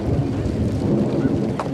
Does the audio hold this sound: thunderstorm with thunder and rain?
yes